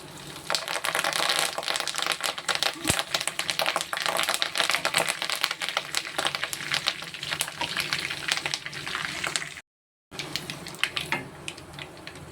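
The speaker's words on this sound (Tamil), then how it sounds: "நல்லா கடுகு வெடிச்சிருச்சு, நல்லா வெந்தயம் பொரிஞ்சு வந்துருச்சு." Mustard and fenugreek seeds crackle and spit in plenty of hot oil for a Tamil tempering, a dense continuous sizzle of rapid pops close by, with one sharper crack and a brief break near the end, no talk.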